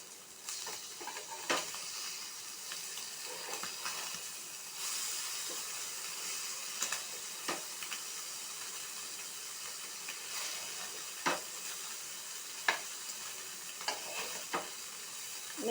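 Anchovies fry in oil in a pan with a soft, steady sizzle, broken by scattered light taps and scrapes as the fish are turned.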